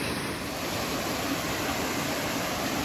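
A flowing stream on an Appalachian Trail hike near Low Gap, Tennessee, rushes close by with a steady, full wash of water and no voices.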